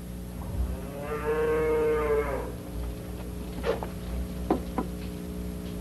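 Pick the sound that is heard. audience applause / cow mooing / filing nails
cow mooing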